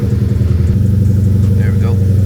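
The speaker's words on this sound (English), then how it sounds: "this thing will start up like nothing in 40 degrees" Tuned car running on E85 fuel, with a street exhaust, started cold in 40-degree weather on a weak battery; it settles into a loud, close, steady lumpy idle that pulses evenly, with a voice faintly over it.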